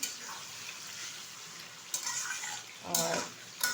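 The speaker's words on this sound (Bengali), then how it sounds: "এখন চিকেনটা ভালোভাবে আমি এটার মধ্যে ভেজে নেব তেলের মধ্যে" Soft, continuous sizzle of chicken frying in oil in a kadai close by, broken by a few clinks and scrapes of a utensil against the pan.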